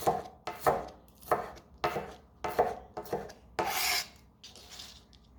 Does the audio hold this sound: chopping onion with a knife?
yes